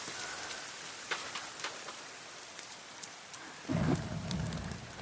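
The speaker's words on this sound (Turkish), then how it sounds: "Yağmur yağıyor." Steady rain hisses down in The Forest survival video game, a soft continuous wash with scattered drop ticks and a low rumbling swell toward the end, no voices over it.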